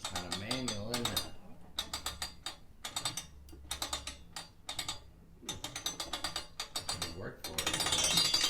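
A hand-cranked souvenir penny press machine at the Corn Palace in Mitchell, South Dakota, ratchets and clicks in close, regular bursts as its gears turn, with short pauses between cranks and a voice speaking briefly.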